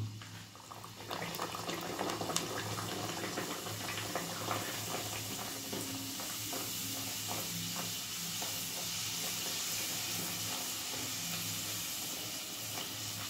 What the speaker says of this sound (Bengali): তেলটা গরম হয়ে গেল, এবার আমি কচুরিটা ছেড়ে দিলাম